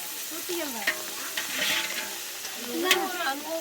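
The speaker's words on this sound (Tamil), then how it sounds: "நல்லா வதக்கிக்கலாம்" Chicken sautéing in a pan for a curry gravy, a close, steady sizzle with stirring scrapes and sputters, while voices talk faintly in the background.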